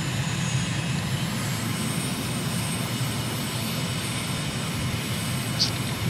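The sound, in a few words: aircraft engine in video game Microsoft Flight Simulator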